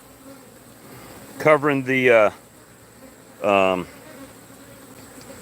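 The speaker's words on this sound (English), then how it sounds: "I got some bees coming out the top there." Honey bees buzz around a hive being prepared for splits, with two loud, close buzzing passes rising over a faint background hum.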